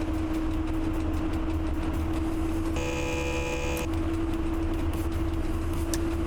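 A diesel locomotive running in the Train Driver 2 game, a steady loud engine rumble with a constant tonal hum and a brief buzzing tone partway through.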